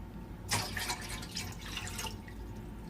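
Water is poured from an ordinary cup into a pot for cooking ramen, a short splashing pour lasting about a second and a half, close and fairly quiet.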